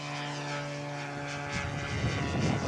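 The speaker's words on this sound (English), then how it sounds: "Slow speed flyby." A scale model propeller aircraft makes a slow speed flyby at a model aircraft show, its engine droning steadily with a tonal whine that swells and roughens as it passes.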